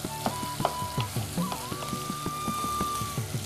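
Broken-up kohlrabi fries in a pan, giving a steady soft sizzle broken by regular tapping stirs and occasional clinks, with no talking.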